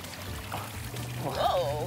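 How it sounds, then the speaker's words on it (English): Water pours and trickles through a children's toy tube set, gurgling at a moderate level while a voice speaks over it. "Oh, you can direct where the water goes with these."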